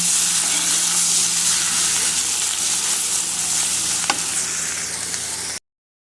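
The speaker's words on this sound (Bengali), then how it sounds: "করলার মুচমুটা ভাজি একটু তেল বেশি দিয়ে ভেজে নিতে হয়" Bitter gourd frying crisp in plenty of oil, giving a loud, continuous close-up sizzle with a faint clink partway through before it cuts off abruptly.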